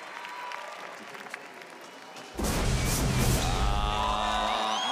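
A studio audience at the Austrian Ninja Warrior competition bursts into loud cheering and applause partway through, after quieter crowd murmur, and keeps roaring steadily with whistles on top.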